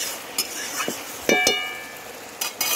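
A spoon stirs sugar in a pan, giving a few scattered scrapes and light metallic clinks over a soft low sizzle, close and fairly quiet, with no talk.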